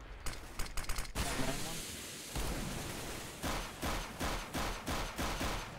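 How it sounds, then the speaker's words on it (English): Rapid gunfire in the shooter game CS:GO, including revolver shots: a quick burst of sharp cracks, then a dense roar and a run of evenly spaced heavy shots, loud and close, with voices talking over parts. "Well, I hit them both with a revolver."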